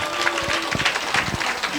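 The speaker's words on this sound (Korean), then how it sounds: "기획해 주신 윤아진아 보살님께 큰 박수 부탁드리겠습니다." Audience applause at a Buddhist dharma assembly in Korea, a steady patter of many hands clapping throughout, moderately loud in a large room, with some faint crowd murmur.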